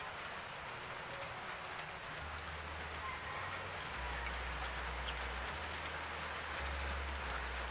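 Steady rain falls outdoors as a constant, soft, even hiss, with a low rumbling hum underneath and no talking.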